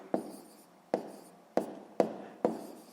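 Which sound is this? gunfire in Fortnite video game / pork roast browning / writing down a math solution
writing down a math solution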